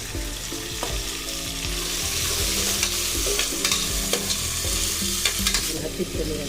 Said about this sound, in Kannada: ಎಣ್ಣೆಗೆ ಸಣ್ಣ ಉರಿಯಲ್ಲಿ ಇಟ್ಕೊಂಡಿರೋಂತಹ ತೊಳೆದು ಗಡ್ಡೆ ಕೋಸು ಮತ್ತು ಕ್ಯಾರೆಟ್ ಎರಡು ಸೇರಿಸ್ತಾ ಇದ್ದೀನಿ